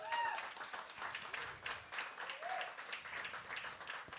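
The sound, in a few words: audience applause at open mic night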